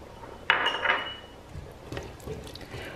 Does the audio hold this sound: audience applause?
no